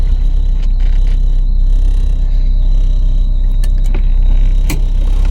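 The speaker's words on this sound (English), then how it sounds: "got a crazy squealing sound from the front" A Porsche 944 squeals loudly and steadily from the front end, ringing high over a low idling engine rumble with a few faint clicks and scrapes.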